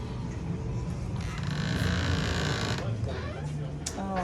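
An old church door creaks open over a steady background of low noise and nearby voices talking, the drawn-out creak sitting mid-level amid the room sound.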